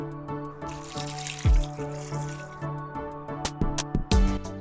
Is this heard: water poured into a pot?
yes